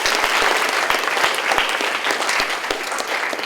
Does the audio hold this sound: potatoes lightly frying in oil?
no